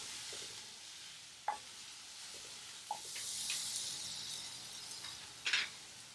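A banana flower cutlet mixture, chopped kudappan with salt and curry leaves, sizzles and is stirred in a pan, with soft steady frying hiss and a few sharp clinks of a utensil against the pan.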